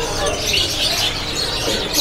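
Dense, overlapping chirps and tweets from many caged birds, including young AF super canaries, fill a busy Pramuka bird market stall. The calls are continuous and fairly loud, with soft cooing and market bustle beneath.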